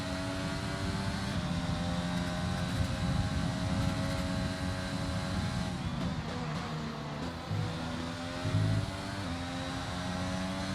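A Formula 1 car in a racing video game at the Australian round drones with a Mercedes engine that sounds like a Honda because of a bug. The loud, continuous tone rises and dips in pitch as the car accelerates and lifts.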